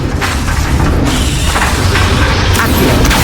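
The Expelliarmus spell is cast in Hogwarts Legacy, producing a dense, loud burst of booming, crashing game effects that stays heavy and rumbling throughout.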